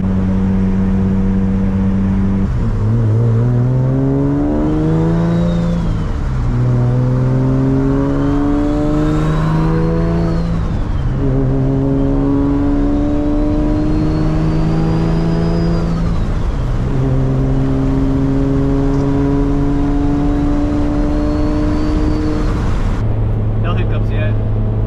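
A Nissan Z with a big turbo pulls through repeated gear changes while driving, engine revs climbing and dropping in a steady cycle, loud and close inside the cabin, with a rising turbo whistle and occasional talk over it.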